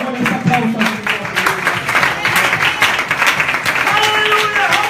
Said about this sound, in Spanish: Démosle ese aplauso.